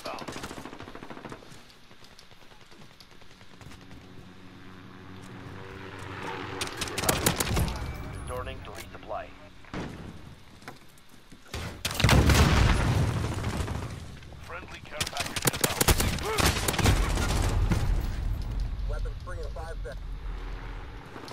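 Video game shooter gunfire: bursts of rapid automatic shots and booms, growing louder and denser through the middle, with players talking over the action.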